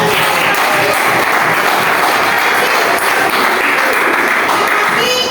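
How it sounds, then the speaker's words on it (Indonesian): A classroom group claps together, a loud, continuous spread of many hands with some voices mixed in near the end. "beri tepuk tangan dulu"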